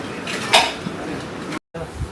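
Metal bowls are dropped into a metal box in a home kitchen, with one loud clattering clank followed by lighter rattles of the tableware. Voices murmur faintly in the background.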